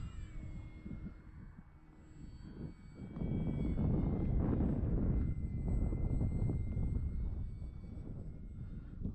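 A model warbird airplane comes in to land on a windy day. Its engine drones softly at first, then swells to a louder, rough rush as it passes close, and eases off again toward the end, with wind buffeting the microphone.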